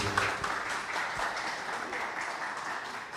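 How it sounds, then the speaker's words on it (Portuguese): Moderate audience applause at a team-development talk, many hands clapping steadily at a middle distance, fairly even throughout with no clear voice on top. "Salva de palmas, gente, para o Delmar mais uma vez."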